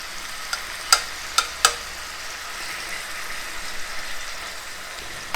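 Thinly sliced steak in hot oil in a pan for a Philly cheese steak, a faint, steady sizzle with a few sharp spattering pops near the start.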